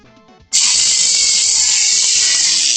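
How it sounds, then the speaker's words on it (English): A retro Tamiya electric handy drill bores into wood: after a faint rattle, a loud, hissing motor whine starts abruptly and holds steady, close up and alone. "it definitely drilled a hole that you can see through"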